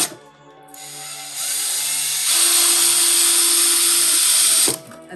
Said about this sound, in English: I can focus on putting pressure on the drill and drilling straight down